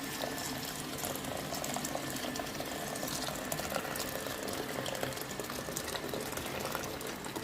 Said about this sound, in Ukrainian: Тепер заливаємо її кип'ятком.